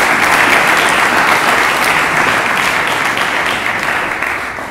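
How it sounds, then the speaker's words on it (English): A debate audience at a youth education event gives a dense, loud round of applause that holds steady and then starts to fade near the end. "I believe I have to give a round of applause to you"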